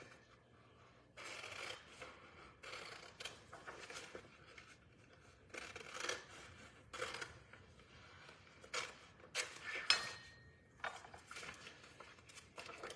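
Scissors snip through sheets of printed sublimation design paper, a series of short crisp rasping cuts in irregular bursts, fairly close and quiet with no talking.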